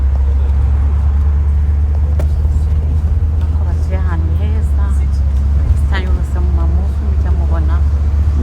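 A car rolls through a six-way stop intersection on a palm-lined Los Angeles street, a steady low engine and road drone heard from inside the cabin while people talk over it throughout.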